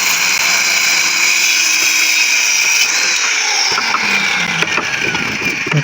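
Power saw cutting a board to size for a new single-leaf wooden door, a loud sustained whine with a steady high buzz that shifts in load as the blade moves through the wood.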